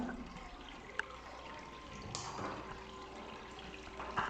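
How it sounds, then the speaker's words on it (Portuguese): A side pump draws water from a tank into a hydroponic channel on a model setup, making a faint, steady trickle and splash with a light click near the start. "Ela puxa a água da caixa e ela está jogando a água aqui em cima na calha"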